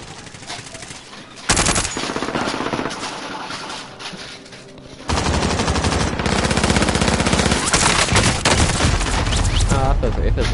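Rapid bursts of automatic gunfire in a multiplayer shooter game, loud and continuous, growing denser and heavier partway through, with a voice talking over the shooting.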